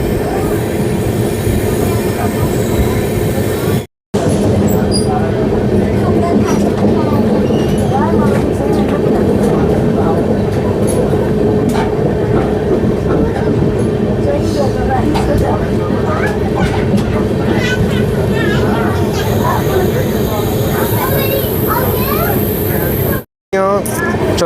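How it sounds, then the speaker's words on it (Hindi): Inside the Jan Shatabdi Express on the Raigarh–Gondia run, a loud continuous rumble of wheels and carriage noise builds as the train picks up speed, with squealing wheel tones and brief dropouts. "आते ही अपनी ट्रेन थोड़ा एक्सेलरेट कर रही है"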